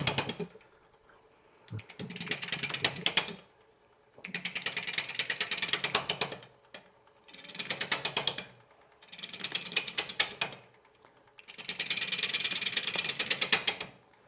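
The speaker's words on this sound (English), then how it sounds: "I'm using my smaller bowl gouge here to rough this out." Old walnut bowl blank roughed out with a small bowl gouge on a spinning wood lathe, producing five loud bursts of scraping, chattering cuts separated by brief pauses, close up and with no talking.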